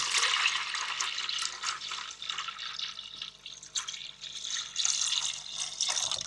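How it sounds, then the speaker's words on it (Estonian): Water being poured into a countertop ice maker up to its max fill line, a continuous splashing, trickling pour that swells and eases in waves. "Proovime see ära, et kallame vett selle maksjooneni."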